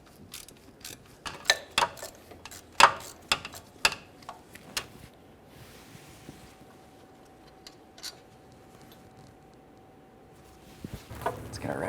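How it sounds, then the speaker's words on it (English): Ratchet clicks on a 13mm mounting bolt of a 2012-2018 Nissan Altima 2.5L accessory belt tensioner, sharp bursts of close metallic ticking in the first five seconds, then a quieter stretch and a few more clicks near the end. "Let's get our ratchet on this one."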